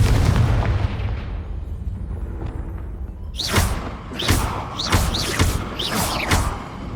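A Confringo fire spell from the Hogwarts Legacy video game sets off a run of sharp explosive bursts and thuds in quick succession, fairly close and loud, following a quieter rumbling stretch, with no talk.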